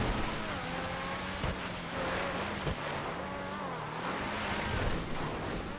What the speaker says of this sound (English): It really sounds like there's electric motors in there as well